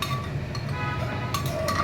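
A pressure cooker and metal pot clink while Bengali fish curry (macher jhol) is cooked, a few bright metallic taps over a steady low kitchen hum.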